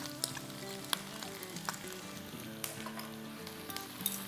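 Green chili paste frying in a pan with onions and potatoes for machi bhaat: a quiet, steady sizzle with light scattered ticks and pops, close by and with no speech.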